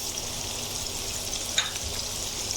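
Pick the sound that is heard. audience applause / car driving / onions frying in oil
onions frying in oil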